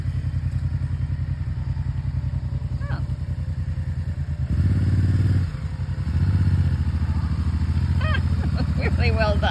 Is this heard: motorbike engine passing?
yes